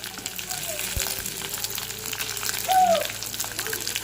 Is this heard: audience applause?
no